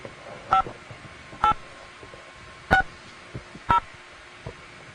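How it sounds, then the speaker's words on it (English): Four or five short dialing tones sound about a second apart, each a brief two-pitch beep over quiet background hiss. "We're trying to reconnect with that dial tone now."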